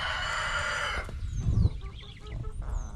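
Chickens cluck and call close by, starting with a loud, drawn-out crow-like squawk, then softer scattered clucks and chirps over a low outdoor rumble.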